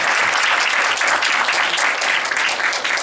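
Sustained applause from an audience at a church Bible-study gathering, a dense continuous patter of many hands clapping fairly loudly for the full three seconds without a break.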